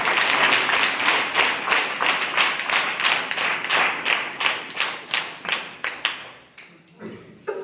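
A church congregation at a Sunday service gives loud, rhythmic applause, many hands clapping together in a steady beat that breaks up and fades into scattered claps near the end.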